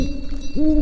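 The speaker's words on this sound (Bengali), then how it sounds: "দূরে পেঁচার আওয়াজ" An owl hoots twice in steady, low tones, clear and fairly loud against a quiet background hum.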